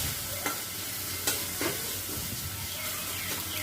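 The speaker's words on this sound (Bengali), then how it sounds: "ভালো করে নেড়ে নিলাম।" Chopped vegetables with turmeric sizzle in a hot pan as they are stirred, with a few distinct scrapes and taps of the spoon over a continuous frying hiss.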